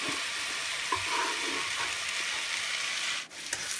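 Bitter gourd sautés with chopped tomatoes and ginger-garlic paste in a pan, a steady close sizzle with faint stirring scrapes and no talking.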